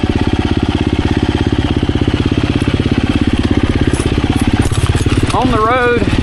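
A 2024 KTM 350 EXC-F dirt bike engine runs loud and close while riding on a road, a steady rapid throbbing drone, with a voice speaking briefly near the end.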